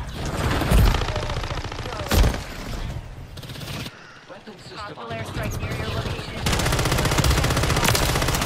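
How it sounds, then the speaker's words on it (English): Modern Warfare 3 multiplayer gunfire, with bursts of rapid automatic shots and single loud cracks that come and go, close and loud, over a player's excited talk. "You can't leap over all of that gunfire from four people."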